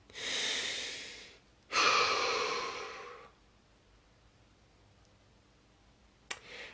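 Two long, deep breaths, each a full inhale followed by a slow exhale, heard close up in a quiet room during a guided relaxation body-scan session, then a short click near the end.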